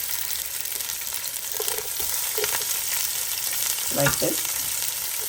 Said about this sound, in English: 6 to 8 tablespoons of oil, and it's on a very high flame. And I will add all my onions in there